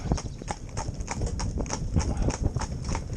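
Hooves of a pair of Gypsy Cob horses driven in tandem clip-clop in a quick, uneven rhythm on a hard surface, close by and fairly loud, with a faint neigh.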